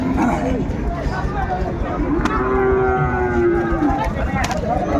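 Sahiwal cattle at a cattle market in Dinajpur, one long low moo rising from a crowded background of bustle, chatter and a barking dog.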